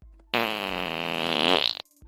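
A single long, loud, buzzing fart lasts about a second and a half, starting abruptly, wavering into a sputtering end, and standing alone without talk.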